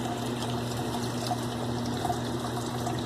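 Water drains from a hot water heater and runs into a floor drain, making a steady, close trickle with a constant low hum underneath.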